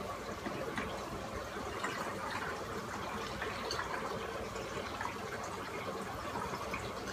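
Distilled water streams into a plastic spray bottle in a continuous pour, a close steady splashing gush lasting several seconds with no voices.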